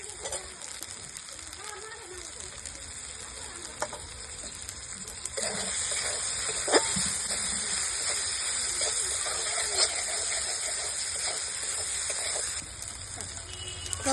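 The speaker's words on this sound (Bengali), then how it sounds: "এবার দেবো টমেটো কুচি।" Chopped tomato hits hot oil with frying ginger and cumin paste for a pangas fish curry, a steady close sizzle and hiss that keeps up throughout with light stirring clicks.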